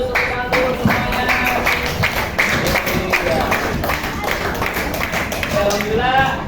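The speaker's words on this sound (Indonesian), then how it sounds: "Beri tepuk tangan dulu semuanya." A class of students claps hands together on a teacher's request, a busy run of quick, close claps with chatter and children's voices underneath.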